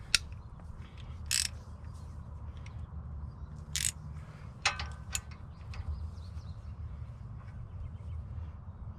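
A CV axle nut on a 2011 Nissan Altima 2.5 SL is turned by hand, giving a few sharp metallic clicks and ratchet-like ticks spaced irregularly over low workshop hum, close and fairly faint.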